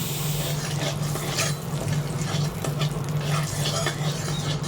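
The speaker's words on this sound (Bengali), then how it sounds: "কড়াটা গরম হয়ে গেছে তাতে আমরা তেল দিয়ে দিয়েছি আর একটু হলুদ গুঁড়ো দেবো" Hot oil with turmeric powder sizzles in a wok, a dense, even crackle that runs steadily throughout with a low hum underneath.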